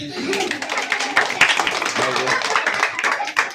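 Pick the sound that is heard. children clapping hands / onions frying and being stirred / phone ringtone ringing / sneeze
children clapping hands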